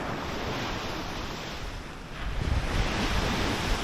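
Sea waves wash onto the shore at evening, a steady broadband rush with gusts of wind buffeting the microphone, swelling louder in the second half with no voices.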